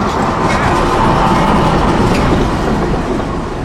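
Freight train L700, a remnant of the Tropicana juice unit train, rolls past close by with a loud, steady rumble and rattling wheel noise, sustained throughout with no clear gaps.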